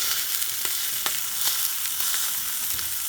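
A sirloin steak frying in a pan gives a loud, close, hissing sizzle with frequent sharp spitting pops, heard alone and without speech.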